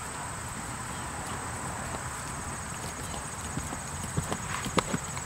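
Horse hooves clip-clop at a steady pace as a rider works the horse over small jumps, sounding faint and somewhat distant against a constant background hiss, with a few sharper hoof knocks near the end.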